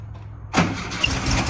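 A garage-find Ghia's engine cranks and catches after a moment of quiet, then runs at a steady, close idle.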